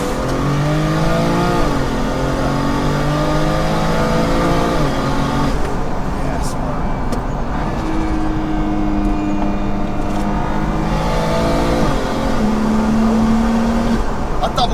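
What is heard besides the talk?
700hp single turbo BMW wagon revving with wastegate chatter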